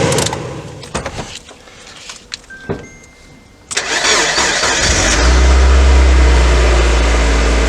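Mazda MX-5 engine, its bay freshly jet-washed, cranks and fires up after some nearby clicks and handling noises, then settles into a loud, steady idle close by.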